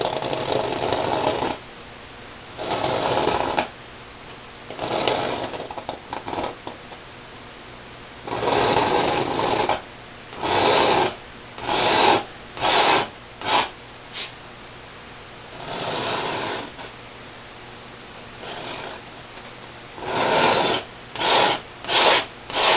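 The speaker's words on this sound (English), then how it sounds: "Go ahead and scrape out the shape of the house here." Palette knife scraping wet oil paint off a canvas to shape a house, a series of harsh rasping strokes, some long and several short in quick succession, close and loud with quiet gaps between.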